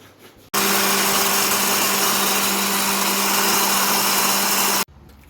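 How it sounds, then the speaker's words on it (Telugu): A mixer grinder whirs loudly and steadily for several seconds, grinding green chillies, ginger and cumin seeds, then cuts off abruptly. "అల్లం, మిర్చి, 2 పచ్చిమిరపకాయలు, ఇది మిక్సీ ఆడాలండి"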